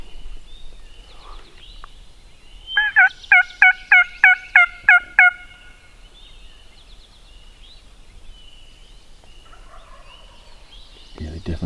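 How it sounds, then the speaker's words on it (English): Wild turkey gobbling in hilly woods, one rattling gobble of about eight quick pulses, moderately distant, with faint background noise before and after. "we got a bird gobbling"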